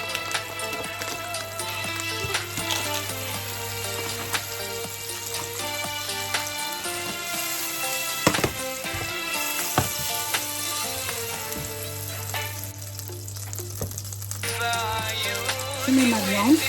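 Butter melting and sizzling in a hot frying pan, a steady crackling hiss running throughout alongside a constant low hum and some background music, with small clinks near the end.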